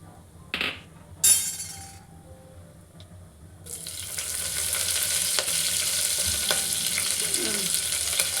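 Curry leaves and crushed black pepper hit hot oil in a pan while pongal is being made. A couple of clinks come first, then a loud, steady sizzle builds up and keeps going to the end.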